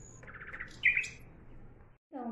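A short burst of bright bird chirps, quick repeated notes then a sharper call, fairly faint over a quiet background, followed by a moment of silence.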